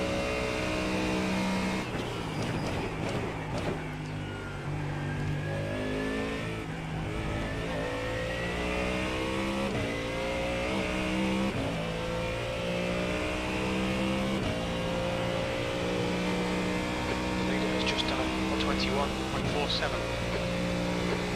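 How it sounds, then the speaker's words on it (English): A V8 GT3 race car engine in the iRacing sim, held low in second gear and bogging, drones steadily with dense harmonic engine tones throughout, someone talking over it at moderate level. "Plus I'm also in second gear and the engine sounds like it's dogging."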